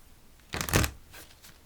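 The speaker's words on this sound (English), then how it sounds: "Last shuffle." Tarot cards being shuffled, one quick crisp riffle up close followed by a couple of soft card taps, no talking.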